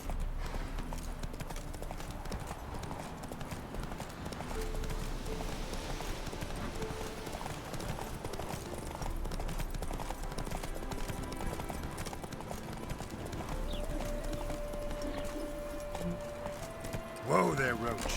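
Roach the horse gallops in The Witcher 3, with steady rhythmic hoofbeats running throughout, under game music and speech.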